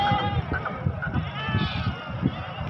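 Rajanpuri and other goats at a madrasa livestock market give several wavering bleats at close range, mixed into a steady hum of nearby voices and market bustle.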